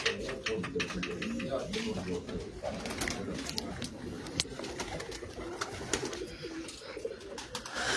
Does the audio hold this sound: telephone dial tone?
no